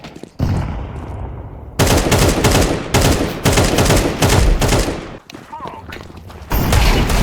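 Gunfire in a shooter video game: rapid automatic bursts, loud and close, coming in several long volleys separated by brief gaps, with excited voices talking between and over the shots.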